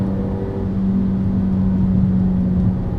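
A Mountune-tuned Ford Focus ST engine drones steadily at a low pitch throughout, a constant hum with slight swells, heard from inside the car.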